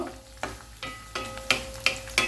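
Finely chopped coriander stems fry in a pan for an instant dal mix, a steady soft sizzle broken by about six sharp scraping stirs at regular intervals, with no voices.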